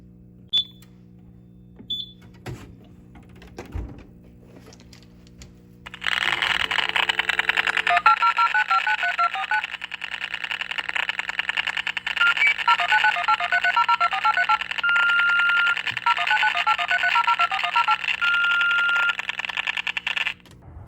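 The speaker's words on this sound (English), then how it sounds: "the fire panel is calling, hitting monitoring's receiver" A fire alarm panel dials out to the monitoring receiver: a few faint beeps and a handling thud, then a loud, steady, warbling data tone with rhythmic bursts that runs close and unbroken to the end.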